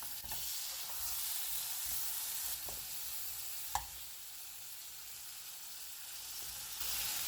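Shrimp hitting an oiled pan with onions, a continuous soft sizzle and hiss with a few stirring knocks and one sharp clack of a utensil, heard close with no talking.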